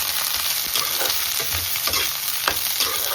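Soya chunks frying in ghee in a pan while being stirred, with a loud close sizzle broken by repeated scraping and clattering stirring strokes, no voices.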